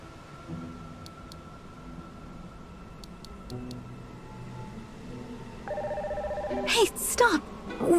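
A phone being dialed in the NieR Re[in]carnation video game, with short electronic tone blips and then a louder ringing tone near the end, faint and close under game music and a character's voice.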